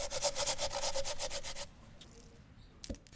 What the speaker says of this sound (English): Peel a potato. Grate it.